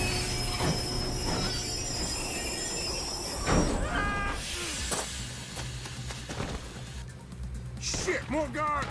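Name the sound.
train rolling on rails in a video game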